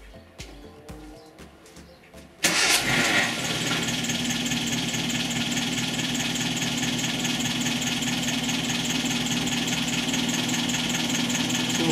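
An MG TF engine is heard close up, with a few clicks and knocks before it cranks and catches. It then settles into a loud, steady, even idle that carries on to the end.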